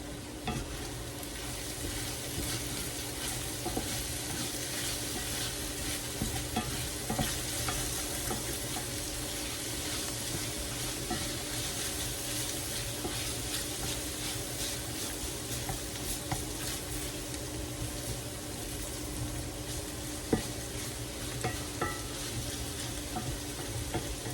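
Bacon, peppers and onions sizzle steadily in a pan, with scraping stirs and faint clinks over the constant frying hiss, close by and continuous. No one speaks.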